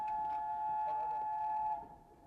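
A train's steady tonal horn or whistle sounds at a distance, holding a sustained pitch for nearly two seconds before fading, over low rumbling background.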